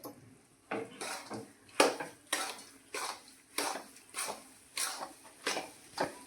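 Cashews and almonds stirred in ghee in a pan for gond laddu: about a dozen evenly spaced clinks and scrapes of a spoon against the metal pan, close and with no talk.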